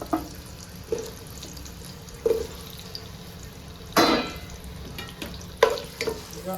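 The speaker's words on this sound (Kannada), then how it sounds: "ಮೊದಲು ನಾವು ಬಟಾಟೆಯನ್ನು ಫ್ರೈ ಮಾಡಬೇಕು" Potato pieces frying in a little oil in a pan for aloo capsicum give a low, soft sizzle, broken every second or two by short stirring scrapes. No voices are heard.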